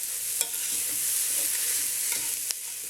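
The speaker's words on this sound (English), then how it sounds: "And then give those a stir as well." Minced carrots sautéing in a pan for ragu sauce, stirred with a utensil: a steady soft sizzle with a couple of sharp scrape clicks from the stirring, close and alone with no talk.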